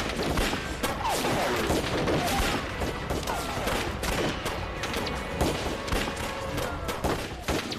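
A dense volley of gunfire in a war battle scene rattles on continuously, loud and close, with overlapping shots and crashing impacts throughout.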